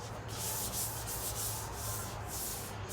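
Steady rasping strokes of sanding across Polybond body filler on the driver's door channel of a 1932 Ford five-window coupe, a continuous close scrubbing with a rhythmic rise and fall and no voices.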